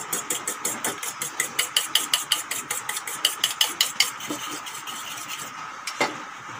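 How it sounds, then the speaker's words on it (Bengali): Eggs are beaten briskly in a bowl, a fast regular series of clinking whisk or fork strokes that slows and stops near the end, followed by a lone clink. "এখন ভালো করে এই ডিমগুলো ফেটে নেব।"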